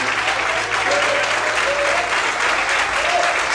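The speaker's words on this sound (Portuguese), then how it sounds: "Você pode aplaudir o Senhor nessa manhã." Sustained applause from a church congregation at a morning worship service, a thick wash of many people clapping steadily and loudly with no pause, a faint voice barely audible beneath.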